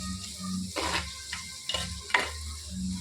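Green chilies, ginger and garlic frying in a pan, a close sizzle broken by several spatula stirs and scrapes that come in short bursts, no one speaking.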